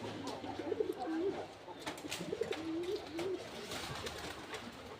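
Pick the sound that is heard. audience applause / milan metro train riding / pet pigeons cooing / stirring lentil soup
pet pigeons cooing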